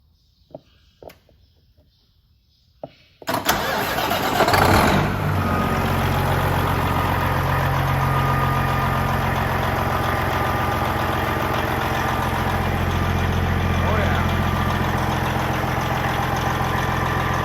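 A truck engine cranks and catches after a few seconds of quiet clicks and taps, then settles into a steady, loud, low rumbling idle that carries on unchanged.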